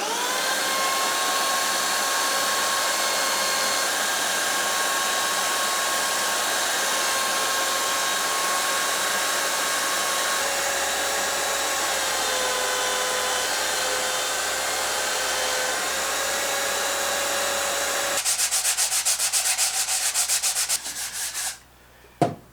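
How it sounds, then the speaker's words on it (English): Sanding wooden parts of a homemade articulated arm, a steady continuous abrasive whir that holds evenly for about eighteen seconds, then turns rougher and more broken before cutting off near the end. "I'm just quickly going to sand everything down and soften up some of the edges."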